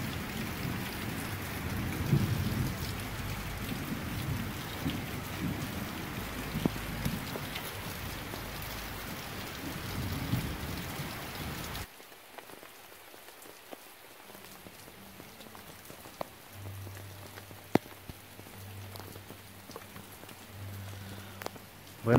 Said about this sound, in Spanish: La lluvia, una bendición de Dios.